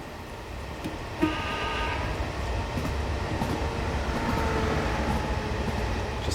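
Two-car JR West 105 Series local train climbs a grade at night on the Wakayama line, heard from onboard as a steady motor drone and rail rumble, with a faint whine rising briefly and occasional light clicks.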